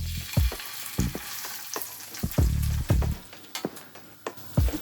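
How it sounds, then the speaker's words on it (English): Salmon fillets fry skin side down in a pan of oil and melted butter, a bright crackling sizzle with several sharp bursts and spatters, close and loud. "we're going to fry these now for 5 minutes on the skin side down"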